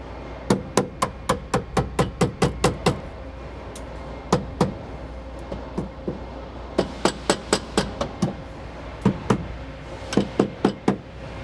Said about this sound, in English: A hammer may be useful in order to get it all the way in there.